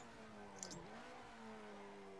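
A car engine in the Assetto Corsa racing game, played in VR, blips up in a quick rev during a heel-and-toe downshift, then settles to a steady drone, heard faintly and at low level.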